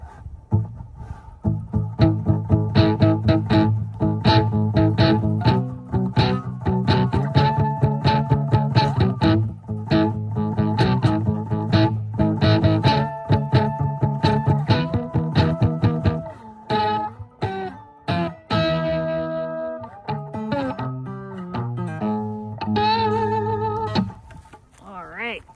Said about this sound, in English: I got my most aggressive distortion set on the Joyo amp. I'm on the metal setting.